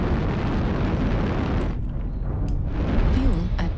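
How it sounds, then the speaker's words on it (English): Missile blast rumbling in MechWarrior Online amid continuous loud in-game battle noise, with a few sharper pops near the end. "Critical damage. Warning, incoming missile."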